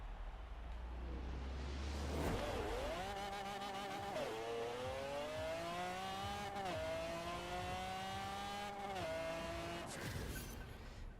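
Ford Mustang tuned to about 1900 horsepower in Forza Horizon 4 with a manual gearbox and clutch, launching with a short tire chirp then revving hard through several rising gear pulls, each shift dropping the pitch before climbing again.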